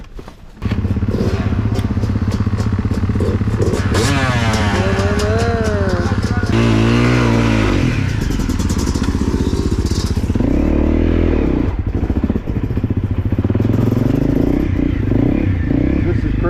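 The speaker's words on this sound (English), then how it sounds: "Now the bike's running completely different." A dirt bike engine runs loud and close through snow and mud, revving up and down continuously with rising and falling pitch sweeps, clattering and scraping along the way.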